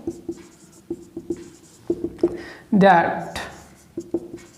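A pen writes out the steps of a maths proof on irrational numbers in short scratchy strokes and light taps, with a voice talking briefly in the middle.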